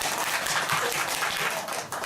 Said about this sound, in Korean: 참 대단해요. 박수 한번.